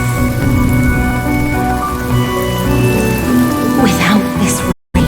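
Steady, loud rain falling in a video game, a dense continuous patter with no break until a brief cut-out of silence near the end.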